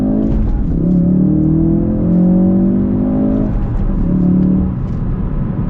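A new Ford Focus RS with a manual gearbox accelerates, its engine note rising through the revs, dropping briefly at a gear change, then climbing again, heard loud from inside the car.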